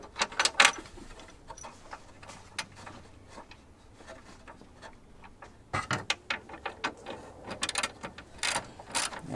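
Ratchet clicking in quick bursts while tightening a bolt on a hood strut bracket of a 2021 Ford Bronco, close and fairly quiet, with a brief pause between two runs of clicks.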